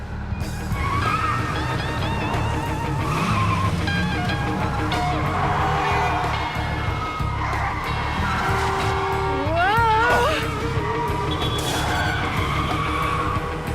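A car in a video game drives through a red light, its engine humming steadily with tire skids and a rising squeal near the end, under game music and voices talking.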